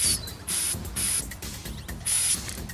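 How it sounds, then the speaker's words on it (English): Compressed-air blower cleaning dirt out of the float chamber and carburetor of a Briggs & Stratton lawn mower: several loud, close hissing blasts of a second or so each, separated by short pauses. "Just blow that all out with a air blower."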